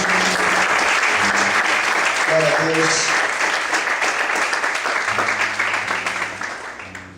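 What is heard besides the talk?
church congregation applauding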